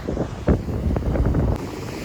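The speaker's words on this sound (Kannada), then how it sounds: "ಗಾಳಿ ಹೆವಿ ಗಾಳಿ ಐತೆ" Strong wind at a beach buffets the microphone with a steady low roar and gusty rumbles, loud and continuous throughout.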